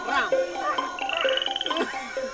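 A voice imitates a frog, croaking in a quick, pulsing run of throaty ribbits during an animated jungle trip, close and fairly loud, with a thin high tone briefly running underneath.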